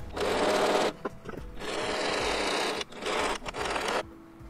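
A sewing machine stitches the hem of a child's apron sewn from a fat quarter, running in steady continuous bursts with a couple of brief pauses, close and fairly loud with no talk.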